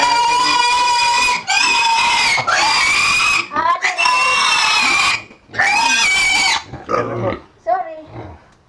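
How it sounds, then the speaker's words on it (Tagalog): Five large pigs, no longer piglets, squeal and scream loudly in repeated harsh bursts while being moved into a new pen, with a few shorter grunting squeals toward the end. "Nalipat na namin yung limang mga baboy. Hindi na po biik dahil malalaki na po sila."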